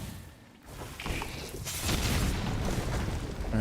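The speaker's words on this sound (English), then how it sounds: "Watch out for the explosion" An explosion in Silksong starts with a sharp burst, then swells into a loud, sustained rumbling roar that stays strong to the end.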